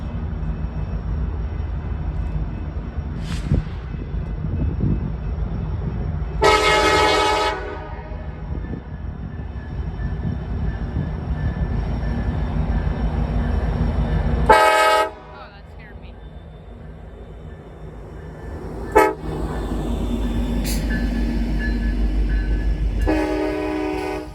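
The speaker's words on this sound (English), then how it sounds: "NS mixed freight train from Bellevue, Ohio." A Norfolk Southern mixed freight train from Bellevue, Ohio rumbles steadily past, with several loud horn blasts sounding at intervals over the continuous rolling clatter.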